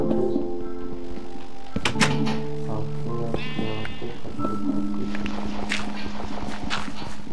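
Sheep bleat repeatedly in the Minecraft video game, several calls close by over game sounds and footstep thuds.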